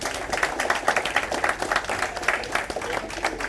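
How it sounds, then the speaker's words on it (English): Steady round of applause from the crowd at a quarterback club meeting, dense overlapping clapping that holds at an even level for the whole stretch. "So let's have a round of applause for Mr. James Brown"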